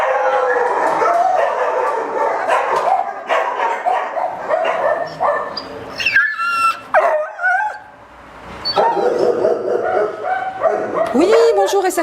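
Dogs at an animal shelter in Arlon bark, yip and howl loudly and repeatedly, a near chorus with rising howls and whines, mixed with people talking.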